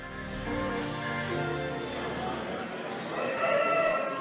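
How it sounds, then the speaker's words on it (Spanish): A rooster crows in a long drawn-out call, fairly close and clear, fading into a noisy farmyard background with other faint fowl sounds. "te vamos a contar por qué cantan los gallos"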